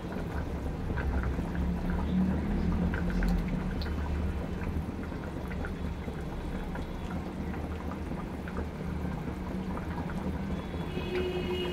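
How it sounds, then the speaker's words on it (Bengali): Fried fish goes into a simmering potato and taro curry: a steady, moderately loud wet bubbling and sloshing, with occasional soft plops and no talking. "ভেজে রাখা মাছগুলো দিয়ে দিচ্ছি।"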